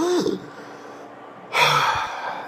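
Two audible breaths, a sharp intake followed a second later by a longer, louder exhale like a deep relaxing sigh, close to the mic with no words spoken.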